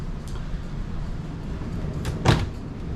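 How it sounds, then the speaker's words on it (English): In a used luxury fifth-wheel RV, a linen closet pocket door slides, heard as a short rolling whoosh that ends in a brief bump near the end, close and fairly loud. "Your door does slide in the pocket here."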